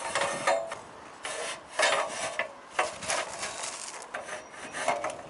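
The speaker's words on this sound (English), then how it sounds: "We're going to slide it out to the length that we need, lock it back into place" Aluminium roof ladder sliding out and locking into place on a roof: a series of scraping, rubbing metal slides in uneven bursts with small knocks, fairly close and quiet.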